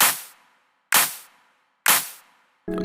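Three sharp, identical hand-clap samples from electronic music production land at an even, spaced rhythm, each crisp with a short reverberant tail, then another sound cuts in.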